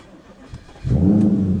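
An Audi S5 with a V8 engine cranks and fires up, settling into a loud, steady low rumble close by after a short quieter lead-in.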